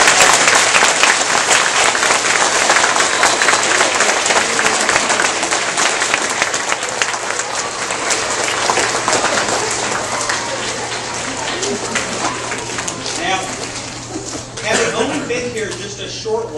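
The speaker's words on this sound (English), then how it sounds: "Give yourselves a big round of applause." Elementary school audience in Georgia giving itself a big round of applause, loud sustained clapping filling the room and slowly thinning toward the end, with a faint low hum beneath.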